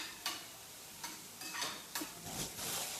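Onion and a vegetable roast in a pan on a home stove, with a soft steady sizzle broken by several stirring scrapes of a spoon against the pan, close and moderately quiet.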